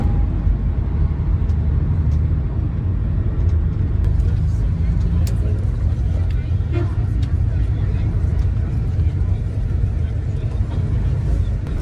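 Inside a large tour bus travelling through Egypt, a constant low engine and road rumble fills the cabin, with occasional light rattles and people talking under it.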